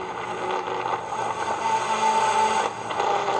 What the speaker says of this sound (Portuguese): Esse é o som do vento no campo